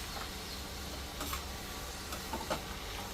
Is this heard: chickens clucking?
no